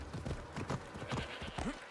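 A horse gallops in the video game Assassin's Creed Odyssey, quick rhythmic hoofbeats close by with a brief whinny-like call near the end.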